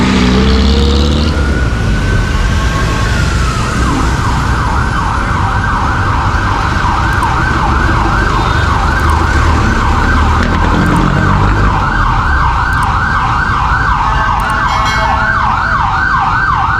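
A loud Manila ambulance siren wails in a rapid, repeating two-tone pattern, continuous and close, over road traffic noise.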